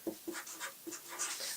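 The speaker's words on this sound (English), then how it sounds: "So number one is I'm going to draw the seam" A pencil or pen is drawn across pattern paper to mark seam lines for a Dior bar suit bodice, giving short, soft scratchy strokes in a quick rhythm, close and quiet.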